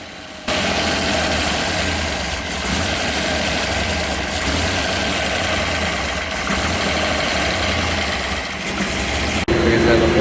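A 489 cubic inch big block Chevy V8, fitted with a swapped cam and tested with 1.7 and 1.8 rockers, runs steadily on an engine dyno. It gives a loud, continuous low rumble with no voices, and the tone changes sharply near the end.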